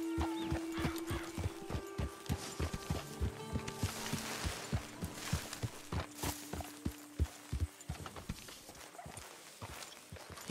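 Horse hooves clip-clop at a steady walking pace through a camp in the video game Red Dead Redemption 2, close and regular, over a sustained humming musical tone with no talk.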